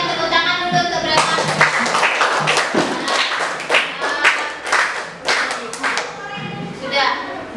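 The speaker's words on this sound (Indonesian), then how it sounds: "berikan tepuk tangan dulu untuk Grema." Classroom applause from a group of students, a burst of quick, uneven hand claps lasting several seconds, fairly close, with voices mixed in.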